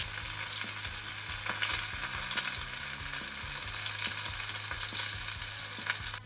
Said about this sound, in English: you can't beat the sound of a sizzling steak